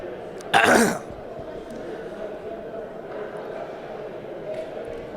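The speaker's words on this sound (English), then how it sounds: "I'm still sort of getting over that cough I had." A single sharp cough or throat clear bursts out near the start, then fades into a steady murmur of distant crowd noise at a varsity hockey game.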